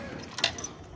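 Keys jangle briefly in a few light metallic clinks while the ignition key goes into a Honda TMX Supremo 150 motorcycle being checked for a spark fault, close and fairly faint with no speech.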